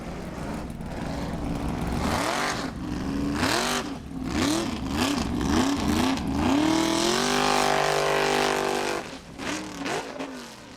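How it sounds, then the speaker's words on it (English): Formula Offroad race car at an Icelandic off-road event in Egilsstadir, its engine revving hard in repeated bursts before it sputters and cuts out, loud and close with no talk. "It kind of sounded like the engine cut out there."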